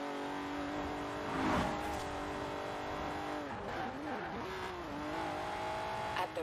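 Twin-turbocharged 3.6-litre car engine with twin Garrett T25 turbos in Forza Horizon 4, a steady droning engine tone that swells into a brief rev, then dips and climbs again, with faint tyre noise underneath.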